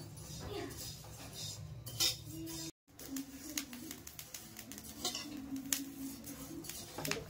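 About 100 grams of fennel seeds sizzle gently in a pan over low heat, with a soft crackling patter and occasional clinks of a utensil against the pan, briefly cutting out for a moment.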